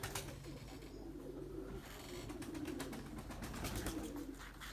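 Pigeons, including white birds, coo at a loft in a rooftop pigeon-keeping setting, a steady low murmur of calls running throughout alongside faint scattered clicks and rustling.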